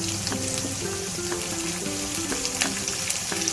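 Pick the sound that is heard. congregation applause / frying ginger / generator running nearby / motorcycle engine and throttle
frying ginger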